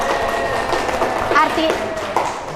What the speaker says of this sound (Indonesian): Tepuk tangan Bapak Ibu untuk kita semua